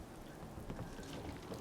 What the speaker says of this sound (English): On this cozy rainy day